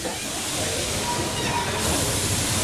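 The Puffing Billy Railway steam train near Emerald gives off a steady hiss and rumble of steam and rolling stock, a continuous moderate wash with no talk over it.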